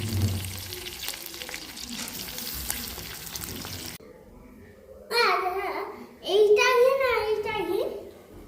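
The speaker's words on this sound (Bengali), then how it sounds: "এইবারে আস্তে আস্তে এটা ঘি বেরোচ্ছে" Homemade ghee bubbling and sizzling in a pan as the cream separates, a busy crackle that cuts off abruptly and gives way to close, bright speech from a voice.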